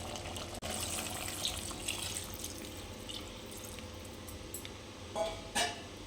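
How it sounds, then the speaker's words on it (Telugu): Water is poured into a pot of mutton curry on the stove, a soft, continuous trickle and splash with a few brief louder gurgles near the end, fairly quiet and with no talk. "కొన్ని వాటర్ పోసుకుందామండి."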